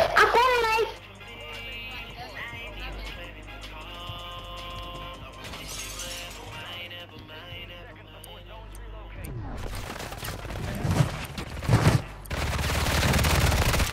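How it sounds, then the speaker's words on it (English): Call of Duty game gunfire: after a quieter stretch with music and voices, dense bursts of automatic fire and sharp shots erupt loudly in the later seconds, with crashes mixed in and people talking over the action. "I'm gonna shoot 30 times."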